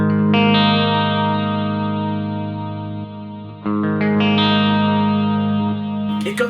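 A clean electric guitar run through a BOSS GT-1000 dual stereo delay into reverb rings out in long, shimmering sustained chords, swelling and trailing off, then a fresh chord strikes with repeats, loud and close.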